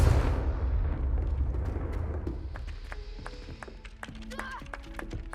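A Confringo fire-blast spell bursts with a loud explosive rumble at the start of a Hogwarts Legacy scene, then settles into quieter game ambience with scattered taps and chimes.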